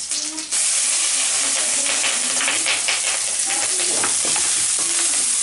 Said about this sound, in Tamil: நல்லா இஞ்சியோட பச்சை வாசனை நல்லா போகுத்து எண்ணெயில இது மாதிரி நல்லா வதக்கிக்கலாம்.